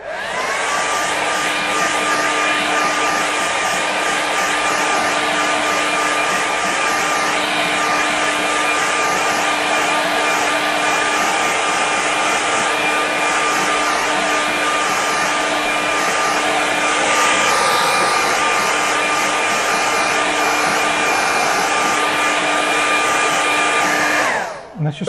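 A hair dryer blows steadily and loudly, drying watercolour paint on paper, a constant whirring roar with a faint whine that holds for nearly the whole stretch before cutting off at the end.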